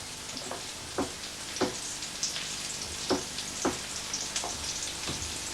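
Steady sizzle of onions frying in a pan on an electric stove, with occasional soft crackles and pops throughout, close and moderately loud, no talking.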